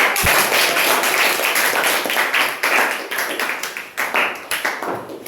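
A classroom of students claps for a group presentation in a school lesson, loud close-up clapping that starts dense and breaks into uneven bursts and individual claps as it tapers off.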